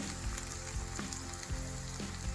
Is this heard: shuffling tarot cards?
no